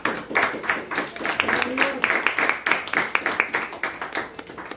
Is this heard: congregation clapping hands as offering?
yes